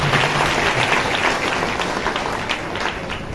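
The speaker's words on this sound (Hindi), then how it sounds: "ताली बजा के परमेश्वर का धन्यवाद।" A church congregation claps together in thanks to God, a dense, moderately loud burst of hand clapping that holds steady and tapers slightly toward the end.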